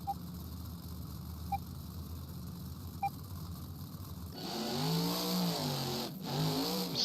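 Monster truck engines at a Beam Jam championship round in Daytona, Florida: a few seconds of low background hum, then loud, close revving that swells and dips in pitch, briefly cutting out before roaring back.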